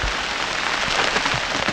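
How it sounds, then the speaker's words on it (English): Hail and freezing rain pelt steadily on the outside of a boat moored during a storm, making a dense, close, continuous patter with no voices. "Look at all the hail coming down."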